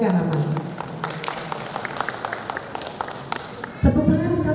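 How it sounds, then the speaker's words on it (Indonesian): Audience applause at an HKBP church district empowerment event for elders and staff, a steady wash of clapping throughout, swelling louder near the end. "Tepuk tangan sekali lagi."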